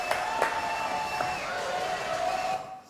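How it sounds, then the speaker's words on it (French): Applause for pianist Tony on a French live show: a brief, fairly faint round of clapping and crowd noise that fades out at the end. "On l'applaudit quand même, Tony"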